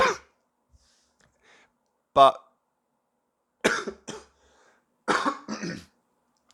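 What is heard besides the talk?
coughing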